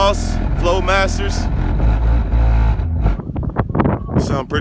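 Exhaust rumble from a lifted 2011 Chevrolet Avalanche truck fitted with Flowmaster mufflers, a loud steady low drone that gives way to rising and falling revs near the end, with a voice talking over the start.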